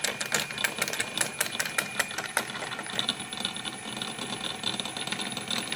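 A wobbling magnet inside a 3-phase wire coil rig rattles against plastic in quick, close, metallic taps like dropped coins, busy at first and then settling into a softer, steady buzz.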